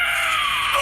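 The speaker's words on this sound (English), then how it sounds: "Victory Screech." A streamer lets out a single loud, sustained high-pitched victory screech lasting under a second, alone with no talk.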